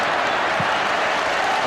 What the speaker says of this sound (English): applauding the service